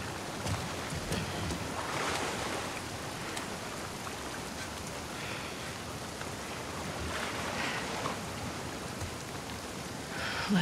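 Steady rain in The Last of Us Part 2 makes a dense, continuous hiss that is fairly loud and unbroken, with faint surges and no talk over it.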